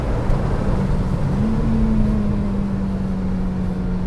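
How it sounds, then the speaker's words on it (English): A supercharged Lotus Exige 350 circles the track at Goodwood with its engine heard from inside, a steady loud drone that holds one pitch and then climbs slightly, smooth and unbroken, with no one speaking. "Because this car doesn't rev quite as stratospherically high as the old Elise, you do have to be wary when you are changing down that you don't over rev it"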